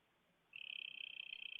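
A male poison frog gives a rapid pulsed trill from about halfway through, a steady buzzing call that runs to the end, close and clear against quiet background.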